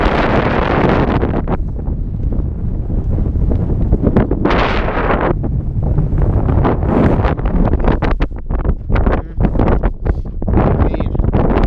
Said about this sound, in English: this wind, it's been picking back up